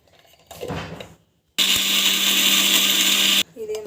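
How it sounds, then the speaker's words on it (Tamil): A mixer grinder whirs loudly and steadily for about two seconds, grinding dates and health mix for laddu, preceded by a short burst of talk and handling noises, then cutting off abruptly. "ஸோ எல்லாத்தையும் போட்டுட்டு அரைச்சிக்கலாம்."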